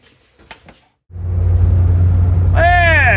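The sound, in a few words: 1984 Toyota Tercel SR5 car driving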